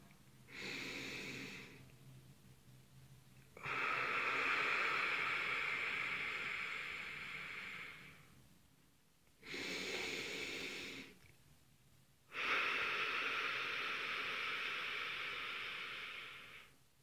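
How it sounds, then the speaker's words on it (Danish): Slow, deep breathing: a short inhale followed by a long, loud, breathy exhale, repeated twice in a quiet room, each out-breath drawn out for several seconds. "jeg trækker vejret ind og løfter brystkassen, og så puster jeg simpelthen alt, hvad jeg kan ud af"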